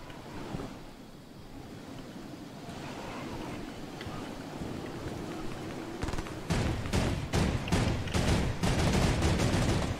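Rapid bursts of gunfire from a video game battle, faint at first and then dense clattering volleys from about six seconds on, over a steady wind-like rush of background noise.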